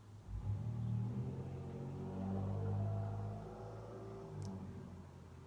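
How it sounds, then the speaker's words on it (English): A car speeds past outside an open window, a low rumbling engine that swells, holds and then fades away, sounding moderately close and heard alone with no voices. "The car speeding by now."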